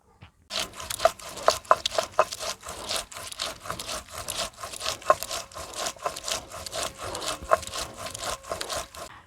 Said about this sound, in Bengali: আগে আমি জিরে মরিচ আর আদাটা বেটে নেব।